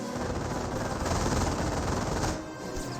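An MG-42 machine gun rattles in Company of Heroes, a sustained, dense burst of automatic fire with battle noise, steady and loud before easing slightly at the end.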